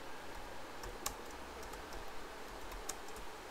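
A computer keyboard used to type a search, with a few soft, sparse keystrokes and clicks over a quiet background hum.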